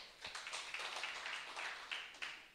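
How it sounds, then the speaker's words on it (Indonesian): A church congregation applauds with faint, scattered clapping that stays distant and quiet, with no talk. "beri tepuk tangan dulu"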